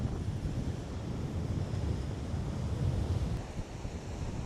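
Rough sea waves crashing on the shore during stormy, rainy weather, a continuous loud roar of surf with wind buffeting the microphone and no voices.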